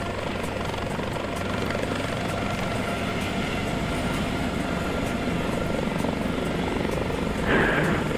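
Helicopter in the FSX flight simulator game, a steady rotor chop and engine hum held evenly throughout, with a brief brighter burst near the end.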